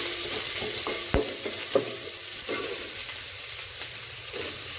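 Crushed ginger and garlic frying in a pan, with a steady hiss of sizzling oil and a few sharp spoon knocks against the pan, close and moderately loud, no voices.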